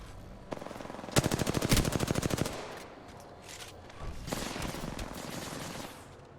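Rapid automatic gunfire in the video game Apex Legends, a dense burst of repeated shots followed by a second, looser stretch of firing, loud and close with no talk.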